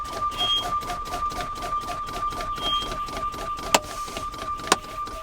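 Air brakes on a Class A truck are fanned by pumping the brake pedal during a pre-trip inspection, giving a steady run of rhythmic hissing pulses with two sharp clicks near the end.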